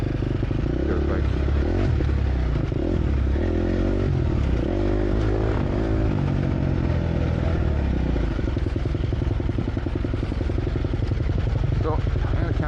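Four-stroke dirt bike on a club trail ride passing close by, a loud, continuous engine drone that rises and shifts pitch as it goes, with clattering over the top.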